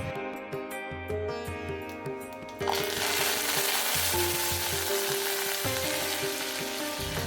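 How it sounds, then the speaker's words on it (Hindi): Panch phoron and curry leaves dropped into hot oil in a kadhai, setting off a sudden loud, dense sizzle that keeps spitting steadily. It sounds close, and a faint tonal background plays under it before the sizzle starts. "उसके बाद पंचफोरन एंड करी पत्ता डाल"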